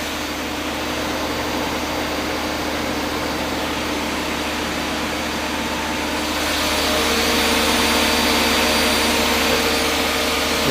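A 2011 Doosan Puma 2600M live-tooling CNC lathe runs with a steady, quiet whirring hum and broadband hiss that thickens slightly partway through, with no talk.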